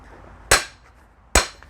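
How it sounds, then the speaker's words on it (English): A hammer strikes twice behind a nail to loosen a board while dismantling a wooden pallet for DIY wood, each blow a sharp, loud, close crack with a short ring, spaced under a second apart. "just go behind that nail, give it a little bang"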